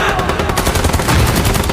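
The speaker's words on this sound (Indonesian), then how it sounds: "Jin segera melindungi mereka dengan menembaki para penjaga" Gunfire in an action film scene as guards are shot, a dense loud continuous burst of rapid shots and crackling echoes filling the whole moment.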